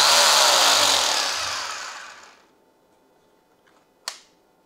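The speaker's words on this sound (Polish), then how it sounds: "Odpalam znowu wiertarę." A loud power drill whirring at full speed, then winding down and fading out, followed by a single sharp click, during a clamp multimeter current test.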